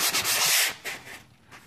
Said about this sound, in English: What I did is I bought this like sanding block. Easiest way to do it.